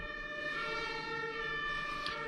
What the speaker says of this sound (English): One issue of living near a hospital, a police station and fire department are the number of sirens.